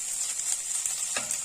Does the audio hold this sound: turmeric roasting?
yes